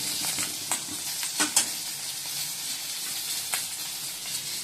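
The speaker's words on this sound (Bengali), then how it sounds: "যা মাছটা ফুটছে ভয়ে ভয়ে ভাজবি অল্প অল্প তেল দিয়ে" Fish sizzles in a pan with only a little oil, a steady crackling hiss with occasional sharper pops and spatters, close and unaccompanied by speech.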